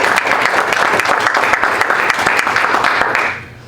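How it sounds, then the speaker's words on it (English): Audience at a school district board of education meeting breaks into loud, steady applause of many hands, sustained and close before quickly tapering off at the end. "So round of applause for Kristen."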